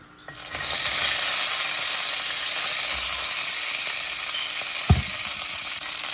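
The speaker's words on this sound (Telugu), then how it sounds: "ఇప్పుడు దాంట్లో నేను ఈ స్నాప్ బీన్స్ వేస్తున్నాను" Snap beans hitting a little hot oil in a pan burst into a loud, steady sizzle that holds throughout, with one sharp clink of a utensil near the end.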